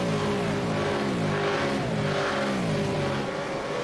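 V8 Supercars in a sim racing game at Watkins Glen roar past in single file, a loud, continuous blend of revving engines with shifting pitch and no pauses.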